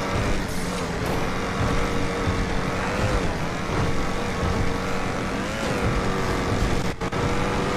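Motorcycles passing by in the video game GTA RP, a sustained engine drone with rising and falling pitch sweeps as the bikes go past, loud and continuous.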